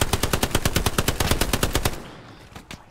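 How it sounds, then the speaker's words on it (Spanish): Rapid automatic gunfire in the World War II shooter Hell Let Loose, a loud, close burst of evenly spaced shots lasting about two seconds before cutting off, followed by a few scattered, fainter shots. "Me está disparando uno"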